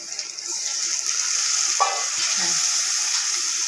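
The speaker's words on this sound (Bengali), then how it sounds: "একটু কষিয়ে নিচ্ছি" Onion fries in a pan with turmeric and chili, giving a steady high sizzling hiss, with a brief clink of stirring partway through.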